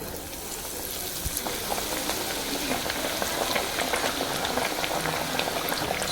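Prawns fry in oil over a slow flame, giving a steady, close bubbling sizzle with dense crackling pops that runs unbroken throughout and has no voices over it.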